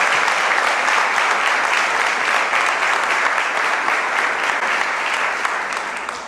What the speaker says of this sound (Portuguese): A gente pode aplaudir Ele, Jesus de Nazaré.